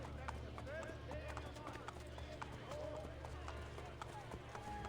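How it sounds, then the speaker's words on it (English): Horse hooves clopping up stone stairs in the Assassin's Creed video game, a quick, steady clip-clop rhythm at moderate loudness beneath constant game ambience and voices talking. "Why is it funny to watch that guy ride his horse upstairs?"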